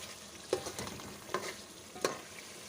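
Cumin seeds fry quietly in oil for mutton karahi, giving a soft steady sizzle broken by a few sharp crackles.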